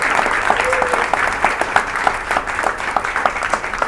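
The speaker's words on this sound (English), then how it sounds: "Can I have a round of applause for Die Hard?" A stand-up comedy crowd at a Muscat food court gives a warm round of applause, sharp individual claps clearly audible within a steady crowd clatter, near and fairly loud throughout.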